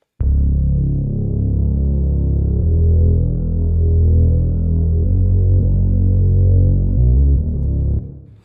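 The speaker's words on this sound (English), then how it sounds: "So then we have the bass sounding like this in the end." A deep, saturated bass tone drones continuously with slight shifts in pitch, thick and warm, fading out with a short reverberant tail.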